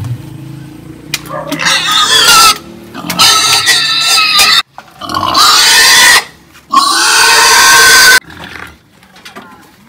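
Gilts squeal and grunt loudly in harsh, overlapping bursts separated by short quieter gaps, close to the listener.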